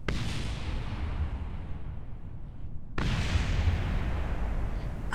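A rocket booster explodes in Kerbal Space Program: a sustained rumbling roar that fades, then a second loud blast at about three seconds that continues as a dense, booming rumble.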